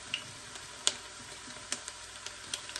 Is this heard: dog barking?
no